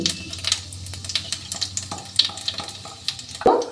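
Panch phoron spices and asafoetida sizzling in hot oil in a pan while cooking a vegetable paratha filling, a steady crackling fry with scattered pops and a brief louder burst near the end, no talking.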